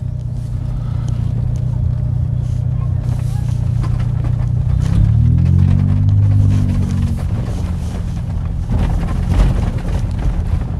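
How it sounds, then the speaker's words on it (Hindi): A Mini Cooper convertible's exhaust rumbles steadily while driving over a rough road, with wind buffeting the microphone and a brief rising engine note midway through the ride. "यू कैन हेयर कि इसका एग्जॉस्ट कितना ऑसम लगा हुआ है, मतलब आई लव द साउंड वैसे"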